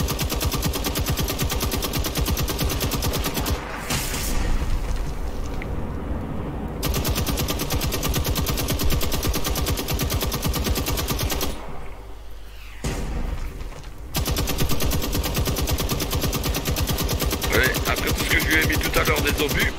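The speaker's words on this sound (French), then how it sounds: "Je passe à la mitrailleuse lourde." A heavy machine gun fires in Generation Zero, a shooter video game: long, dense sustained bursts of rapid automatic fire with a couple of brief pauses, loud and close, over continuous in-game noise.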